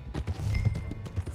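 Horse hooves clopping in Red Dead Redemption 2, a brief run of muffled thuds at moderate loudness over low rumbling game ambience.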